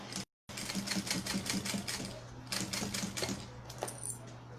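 A sewing machine runs steadily on stitch length 3.5, sewing all the way around a bag made of many layers with a thick piping, its fast needle clatter close and continuous after a brief pause at the start.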